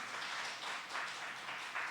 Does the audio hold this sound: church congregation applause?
yes